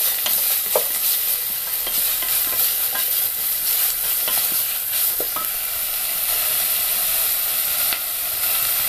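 Onions frying in a pan with salt over raised heat, a dense, constant hissing sizzle close by with a few light scrapes of stirring.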